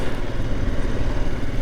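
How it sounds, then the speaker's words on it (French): A 2022 Royal Enfield Himalayan Scram 411 motorcycle engine runs steadily at close range, a dense, continuous low rumble with a faint clattery mechanical edge and no speech. "tu entends le moteur chanter"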